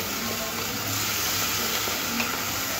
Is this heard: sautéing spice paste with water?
yes